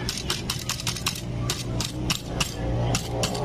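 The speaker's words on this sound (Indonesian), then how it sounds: "pukul pakai palu karet." A rubber mallet strikes a part of a Honda Beat FI scooter in quick, repeated blows, sharp and close, with no talk over the knocking.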